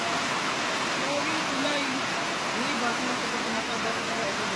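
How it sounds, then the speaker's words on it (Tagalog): The strong current of the Pasig River rushes in a steady, loud broadband roar of churning water. Voices talk faintly beneath the constant flow. "Wala, malakas yung alon."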